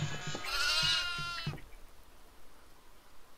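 Goat bleating in the horror video game Devour, a loud wavering bleat in the first second and a half, then fading into quiet game ambience with soft thuds.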